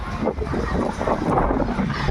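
Strong wind gusts buffet a rooftop balcony during light rain, a rough, roaring rush that surges and pulses continuously without pause.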